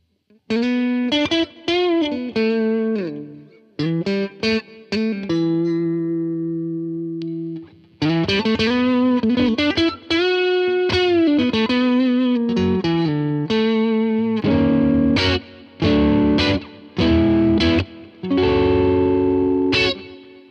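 Electric guitar through an overdrive pedal into a clean amp in AmpliTube 5 plays chords and single notes with a gritty, saturated tone, phrases separated by short pauses, loud and close with no talking.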